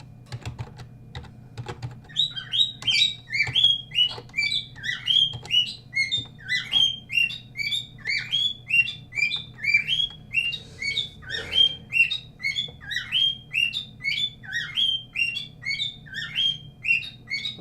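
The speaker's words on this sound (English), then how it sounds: "Shut up, bird. Shut up, bird." A pet bird chirps and squawks repeatedly near a computer, its rapid high calls continuing steadily over clicking keyboard typing and a low electrical hum.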